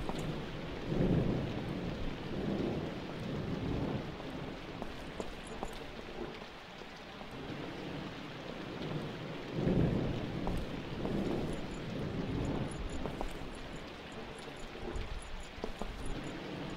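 Thunderstorm in the horror video game White Day, with steady rain and repeated low thunder rumbles swelling around one, six and ten seconds, moderately loud with no talk.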